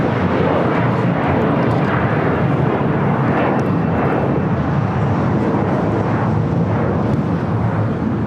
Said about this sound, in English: This Asiana A380 Super.